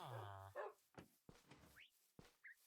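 Short barks and yips from video game dogs, several quick separate bursts with a whimpering tone, fairly faint and close, with no talk over them.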